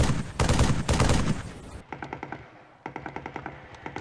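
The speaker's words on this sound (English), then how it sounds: "beefy gunfire being fired next to me" Heavy, booming bursts of rapid gunfire blast up close in the video game Halo 3, then give way to lighter, crisper automatic shots rattling in quick succession.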